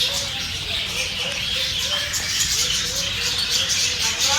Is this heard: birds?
yes